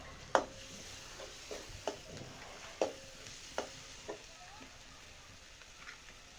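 Masala sautés in a pan over a wood-fired chulha for methi bhaji, with a soft background sizzle broken by several distinct spatula knocks and scrapes against the pan, the strokes fading toward the end.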